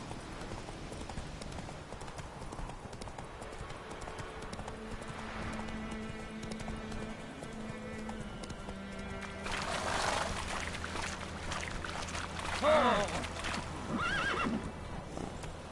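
Hooves clip-clop steadily from a horse in The Witcher 3, then a loud whinny and snort cut through near the end; a voice is briefly heard.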